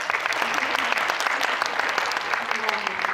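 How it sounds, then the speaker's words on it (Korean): Steady applause fills a film screening talk with guests, a dense even clatter of many hands that goes on throughout, with faint voices under it. "심은경 배우의 높은 안목에 큰 박수 보내드리고요"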